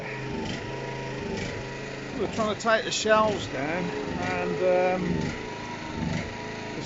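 A portable generator runs steadily in the background on a boat in Greece, charging a flat 12 volt drill battery, its low even drone continuing beneath close conversation.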